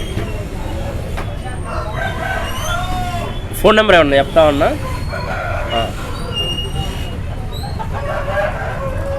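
A rooster crows loudly and close for about a second at a Sunday country-chicken market in Ongole, amid steady crowd murmur and continuous conversation.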